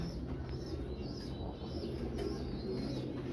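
Breeding-loft pigeons cooing in a low, continuous murmur, joined by a few faint chirps and a brief flutter, all fairly soft against steady background noise.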